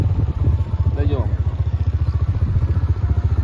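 Motorcycle engine crossing the Rathoa Haryam Bridge near Mangla Dam, running with a steady rapid low throb, close and loud, with brief talk over it.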